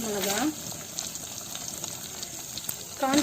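Cinnamon, bay leaf and star anise frying in hot oil as the base for Chettinad mutton pepper chukka: a steady, close hiss and sizzle throughout, with brief tonal sweeps at the start and end.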